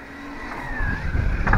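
A ZD Racing 08427 RC car, a 4.5 kg model, drives with a rising and falling electric motor whine and rumbling tire noise that grows louder near the end.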